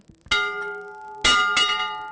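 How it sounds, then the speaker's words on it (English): A ship's bell in a Great Lakes museum exhibit is struck three times in quick succession, each a loud, close, bright clang with a ringing metallic tone that sustains between strikes. "cool bell. I wonder if it's really loud."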